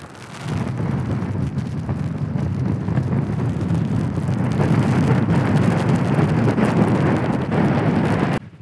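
Strong wind buffets the microphone on an exposed coastal edge path, a loud continuous low rumbling roar that swells slightly midway and cuts off abruptly at the end, with no talking.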